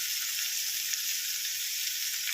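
Onion and pumpkin frying in hot oil with bitter gourd, a steady close, even sizzle hissing throughout without pause.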